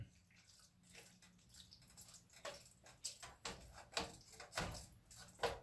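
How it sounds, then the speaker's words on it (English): Meat soup boiling in a pot with a little too much water, giving a steady low bubbling wash punctuated by louder sputters and pops near the end, with no talking. "we're gonna have to sit here and let this thing boil out for a little bit"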